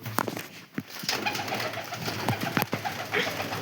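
Soft pigeon coos repeat nearby over a steady background murmur, with occasional light taps and rustles mixed in.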